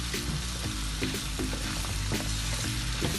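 Sliced onions sizzle steadily in hot oil for qeema karahi, a dense continuous frying hiss with a spoon knocking and stirring through them at intervals, close and without talk.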